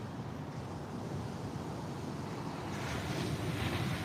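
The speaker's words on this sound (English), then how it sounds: "you could just lay down and meditate to the sound of the ocean" Ocean surf at a beach rumbles steadily and close, a continuous wash of breaking waves mixed with wind buffeting the microphone, with no voices.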